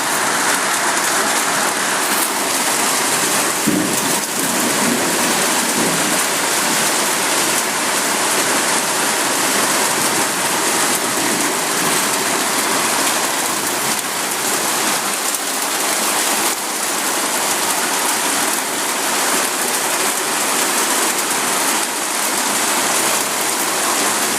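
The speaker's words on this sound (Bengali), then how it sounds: "দেখুন, বজ্র বৃষ্টি হচ্ছে, বিদ্যুৎ চমকাচ্ছে।" A heavy, continuous thunderstorm downpour roars steadily throughout, dense and loud with no pauses and no voices.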